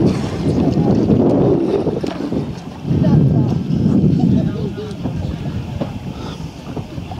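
A yacht under way on open water near a sandbar, with steady wind rush and water noise throughout and a voice talking over it.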